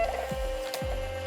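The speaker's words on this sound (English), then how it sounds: "we're printing out the bulk order right now, or at least we're doing the first 50 prints right now." A printer works through a bulk order with a short mechanical whir and a steady tone, broken by quick sliding chirps of the print head and feed, heard close and alone.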